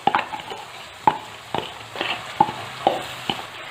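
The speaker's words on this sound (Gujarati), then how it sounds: "આવી રીતે સામાને ઘીમાં અડધી મિનિટ માટે શેકી લીધેલો" Soaked barnyard millet (sama) being stirred and roasted in ghee, with a spoon scraping the pan in several distinct strokes over a soft continuous sizzle, close and moderately loud.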